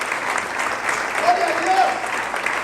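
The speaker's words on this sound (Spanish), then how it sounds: "Dale fuerte las palmas al Señor." A church congregation claps for the Lord during a sermon, a dense, steady roll of applause with a voice speaking over it.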